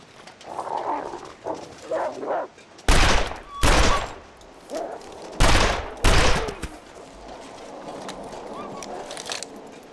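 Gunfire in a video game, loud bursts of rapid shots in two heavy clusters plus a few lighter volleys, with a voice talking in between.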